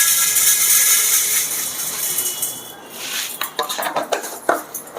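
Metal utensils and dishes clatter together in a home kitchen, a dense run of sharp clinks and knocks in the latter half, loud and close after a stretch of hissing background noise.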